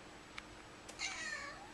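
A talkative cat gives one clear, drawn-out meow after a couple of faint clicks, close and quiet in an otherwise still room.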